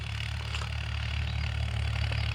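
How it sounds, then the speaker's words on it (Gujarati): A tractor engine runs steadily while ploughing a field, a low droning rumble with a constant pulsing throb and no talking. "આપણા ખેતરમાં ટ્રેક્ટર ખેડવા માટે આવી ગયું છે।"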